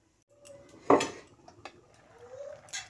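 A pot of lentils cooked with shrimp and greens is set down with a single loud metallic clank, then a lid is placed on, followed by lighter clinks of cookware, close by with no talking.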